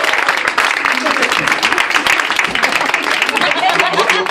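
A church congregation applauding steadily, dense clapping filling the whole stretch at a loud, even level with no pauses.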